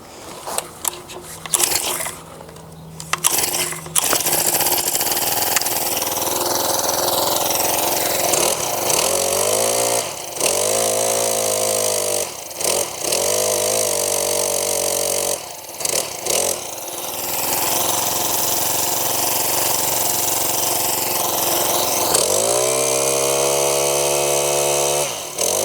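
A Mantis 7940 tiller's small gas engine runs loud and steady close by, with sharp revving surges and a rising pitch near the end after a few choppy starts.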